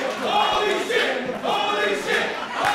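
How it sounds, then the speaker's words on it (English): A large wrestling crowd roars and cheers in loud rising waves, with shouts and whistles carrying over the din. "Crowd here loving it."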